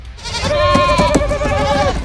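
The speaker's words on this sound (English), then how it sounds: "Loki frees a few goats and says" A goat from the Loki series bleats in one long, wavering, nasal cry, loud and close, lasting about two seconds with no one talking.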